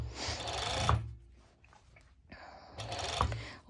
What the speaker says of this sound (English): I'm going to serge it all over